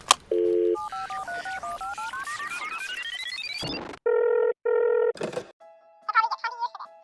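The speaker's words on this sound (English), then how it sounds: "I'm going to give Lego a call on our super secret Lego phone." Dialing and ringing on a toy Lego phone, a rapid run of stepped keypad tones climbing in pitch, then two loud electronic ring bursts, followed by faint garbled chirps.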